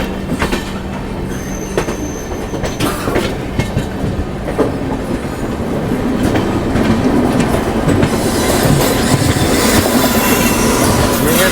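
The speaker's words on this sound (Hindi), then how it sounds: "यहाँ किसी ट्रेन का डिपार्चर भी हो रहा है पूरी लाइन की ओर" The Bikaner Puri Express departs on the line toward Puri in Odisha, with loud, close rolling wheels, rhythmic clickety-clack and a brief squeal, the rumble growing heavier as it gathers pace.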